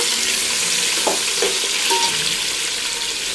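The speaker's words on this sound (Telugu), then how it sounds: "దీంట్లో వాటర్ అంతా ఇంకిపోయే వరకు చికెన్ ఇలా వేపుకోవాలి మంచిగా." Loud, steady sizzling of chicken frying in a pan for chicken biryani as its water cooks off, with a couple of brief stirring scrapes partway through.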